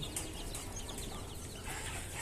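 Hens and newly hatched chicks on a poultry farm make faint, soft clucks with thin high peeps scattered over a continuous low background.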